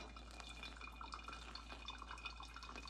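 Hot water poured again over coffee grounds: light, quiet trickling with scattered drips and small splashes, close by, over a steady low hum and no voices.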